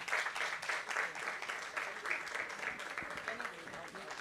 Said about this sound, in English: Thank you so much for that lovely standing ovation.